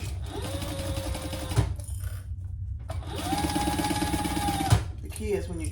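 A sewing machine bastes the seam of a crossbody bag with a quarter-inch allowance, running in two steady bursts of close, loud stitching separated by a short pause.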